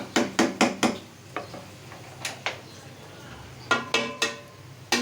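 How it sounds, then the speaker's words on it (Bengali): Sharp metallic clinks and scrapes of a spatula stirring boiled taro greens with onion, garlic and dried chili in a pan, in uneven bursts of a few knocks with quiet pauses between. "পেঁয়াজ আর রসুন আর শুকনো মরিচ দিয়ে এটা বাগার দিচ্ছি।"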